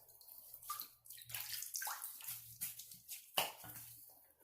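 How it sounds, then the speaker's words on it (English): Tap water runs in irregular bursts as a safety razor, a Merkur Progress, is rinsed between shaving passes, splashing close by in a sink with no talk. "let's rinse up, go for a second pass"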